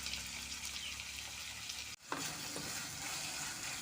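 Tomatoes with a little rock salt sauté in a pan for paneer gravy, making a steady soft sizzle with stirring scrapes and a brief break midway; no speech.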